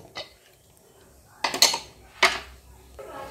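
The metal lid of a pressure cooker being opened after the steam has gone, producing a few sharp metallic clanks and scrapes in a quiet kitchen.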